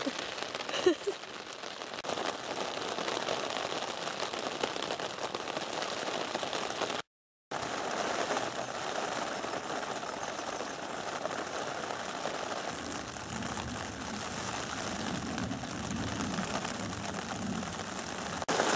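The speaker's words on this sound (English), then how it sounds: "Raining." Steady rain falling on a wet day at Lyme Regis, a dense continuous patter of drops on surfaces, loud and close throughout with a brief break in the middle, no voices.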